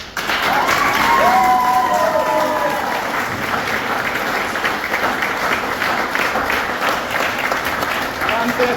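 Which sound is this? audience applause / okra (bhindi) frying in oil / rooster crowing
audience applause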